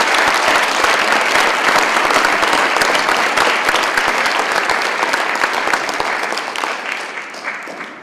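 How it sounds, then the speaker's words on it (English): A crowd gives loud, sustained applause for U.S. Army soldiers at a ceremony, dense clapping close and steady, thinning slightly toward the end. "Let's give one more big round of applause to the U.S."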